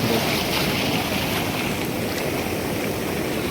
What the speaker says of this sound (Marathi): आता ही लाट खूप उंच